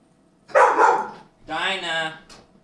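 Dogs barking indoors in a home kitchen, two loud close bursts of barks and yips with a short pause between them.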